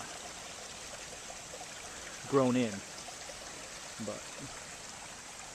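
A small natural creek flows with a steady, soft wash of running water throughout, fairly faint, while someone briefly speaks over it.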